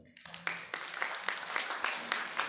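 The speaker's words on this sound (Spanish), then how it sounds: "Le agradecemos con un fuerte aplauso." Audience applause at a biological sciences symposium on coastal wetlands, a steady wash of clapping lasting a couple of seconds with no talk over it.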